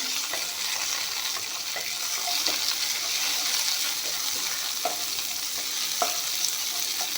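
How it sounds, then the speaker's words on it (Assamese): Onion and bay leaf with panch phoron frying in oil in a pan, a steady bright sizzle with occasional scraping stir clicks throughout, no talking. "এইখিনি অলপমান ভাজি ল'ম।"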